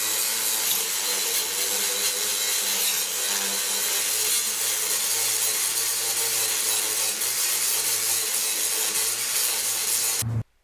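An angle grinder's cutting wheel grinds steadily through a rear spring hanger bolt on a 1999 Ford Explorer, a loud, continuous harsh whine that runs almost unbroken before stopping abruptly.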